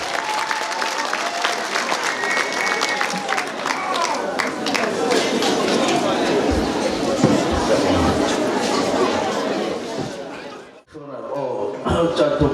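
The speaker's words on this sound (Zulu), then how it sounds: "sacela sumeni sonke simshayele ihlombe" A large audience applauds and cheers for the Minister of Water and Sanitation at a community gathering in Bhanango, with sustained clapping, scattered laughter and chatter across most of the stretch, a brief lull, then clapping again.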